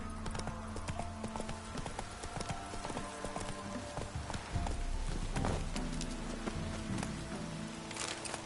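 Hooves clip-clop steadily as the horse Roach runs in The Witcher 3, a fast, continuous patter of hoofbeats over a dense bed of game music and ambience.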